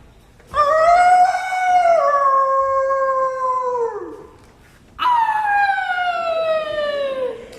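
A voice imitates a wolf howl during a stage performance of The Jungle Book: two loud, sustained, wavering howls, each sliding downward in pitch, with a short pause between them.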